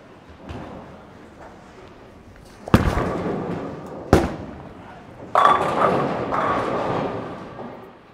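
A Storm Absolute bowling ball with a 4.5-inch pin layout rolls down the lane and crashes into the pins: a low rumble, then several sharp, loud impacts with ringing clatter amid alley ambience.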